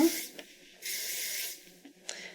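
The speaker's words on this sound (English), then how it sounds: "a little bit of hairspray will help tuck these little pieces in as well" Hairspray is sprayed onto hair during chignon bun styling in a salon, with two sustained close hissing bursts and brief gaps of near silence between them.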